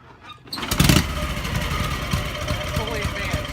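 1961 Harley panhead engine firing up after primer kicks, catching with a loud burst and settling into a lumpy, loping idle close by, with a voice briefly heard over the start.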